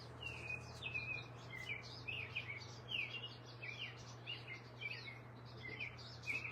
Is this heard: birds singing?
yes